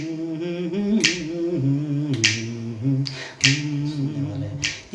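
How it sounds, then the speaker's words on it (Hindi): Crisp finger snaps ring out one at a time at a steady, simple rhythm, close and clear over a low sustained tone, with no talking. "अगर मैं सादी चुटकी बजाऊं तो रिदम कैसे होते हैं"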